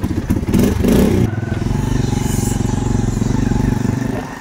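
A motorcycle engine starts close by with a few sputtering bursts, then settles into a steady, loud, rapid thumping idle and pull-away as the rider sets off on a village road.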